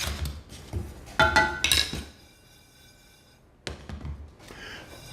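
Oats are stirred in a dry pan with no oil while toasting for homemade granola. Clinking, scraping utensil-on-pan strokes come in two close bursts with a quiet pause between them, and no one speaks.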